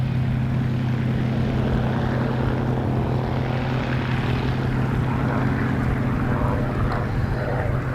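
A P-51 Mustang propeller aircraft flies at an air show, its piston engine a steady, droning roar with a low throbbing hum, sustained and moderately loud without talk.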